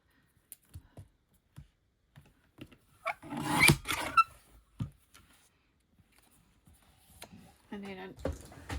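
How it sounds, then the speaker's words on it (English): Cardstock being trimmed for a handmade card: scattered light clicks and handling noises, then a louder scraping cut lasting about a second, followed by quieter rustles and a brief voice near the end. "I'm going to trim that to 9."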